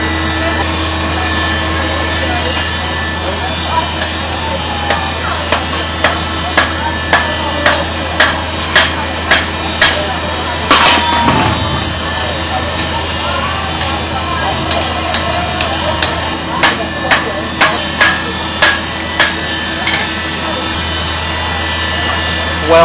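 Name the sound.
hammering metal during fire welding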